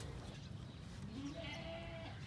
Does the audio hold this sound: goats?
yes